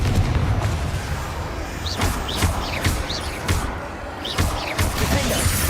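Repeated Confringo spell blasts in the Hogwarts Legacy video game, a string of sharp booming impacts every second or so over a dense, noisy battle background, with a voice shouting spell names.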